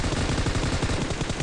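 Automatic gunfire in the mobile shooter PUBG Mobile, a loud continuous burst of rapid shots with no pauses across the whole stretch.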